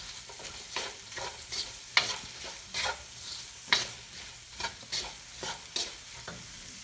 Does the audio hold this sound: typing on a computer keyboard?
no